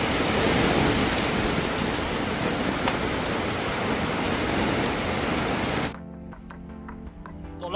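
Rain pours steadily and loudly in a dense wash for about six seconds, then cuts off, leaving faint quieter sounds.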